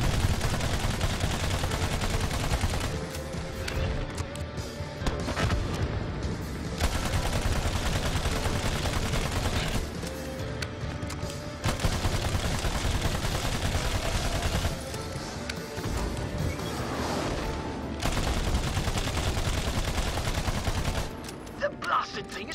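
Sustained gunfire in Battleborn, aimed at the flashing chest weak point of the Galactic Emperor mini-boss, running nearly continuously for over twenty seconds with brief dips, heavy and dense beneath game music and effects.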